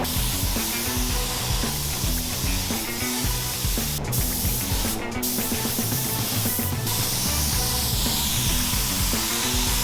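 A spray gun lays clear coat gloss onto a Peterbilt 389 in a steady, close, loud hiss that runs continuously, with brief breaks as the trigger releases.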